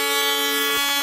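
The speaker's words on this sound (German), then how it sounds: "Noch nicht einsteigen, erst wenn ich tröte." A loud, sustained electronic horn or buzzer tone blares for about a second, signalling the start of a car challenge in a television game-show studio.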